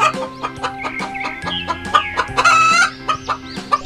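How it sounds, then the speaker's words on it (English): A hen clucks in quick, choppy bursts, close and fairly loud, followed by a short crow-like squawk, then more clucking, over light background music in a children's alphabet lesson. "H for hen."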